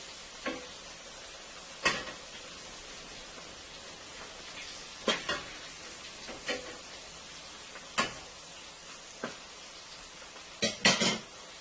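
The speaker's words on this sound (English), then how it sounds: "These are frying up so beautifully." Shrimp fry in oil with a soft sizzle under scattered metal clinks and scrapes of a utensil against a pan, a few sharp knocks, quiet and close.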